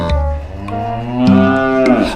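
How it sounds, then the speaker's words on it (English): A cow gives a single loud, drawn-out moo with a deep, harmonic-rich tone that rises slightly in pitch partway through. No other sounds are heard. "No, that is a cow mooing"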